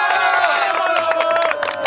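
A Senegalese theatre audience cheers and shouts as a crowd, with continuous, loud, overlapping voices and a sustained tonal call running through, dense and close throughout.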